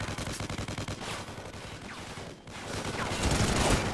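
Enemy soldiers fire automatic weapons in Call of Duty: Ghosts, with rapid bursts of gunfire in a fast rhythmic volley at first, then a dense, louder barrage that builds toward the end.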